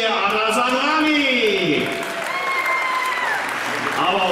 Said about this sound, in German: meine Damen und Herren, einen recht herzlichen Applaus, bitteschön